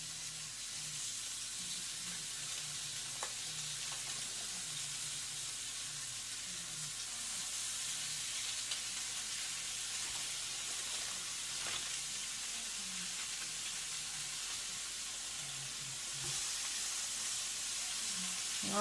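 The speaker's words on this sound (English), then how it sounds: "y'all are going to hear a lot of sizzling" Hamburger steaks sizzle in a pan over medium-high heat, a constant soft hiss and crackle of fat with faint clinks, heard alone without talk.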